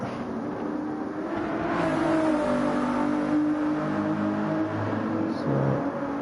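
GT1 race car engines roar down the start-finish straight in a racing video game, a loud, steady, sustained drone with shifting, rising pitch as the cars hold speed.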